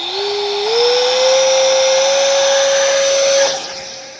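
A 50 mm ducted-fan RC T-33 jet whines close by at a little over half throttle, a loud steady rising tone that climbs slightly before cutting back and fading.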